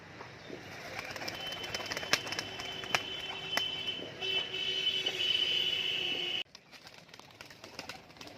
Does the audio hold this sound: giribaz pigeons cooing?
yes